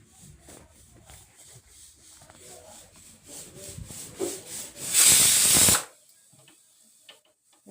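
A pressure cooker cooking dal lets out one sharp, loud whistling hiss lasting under a second, standing out above quiet household shuffling and faint voices before it falls back to near silence.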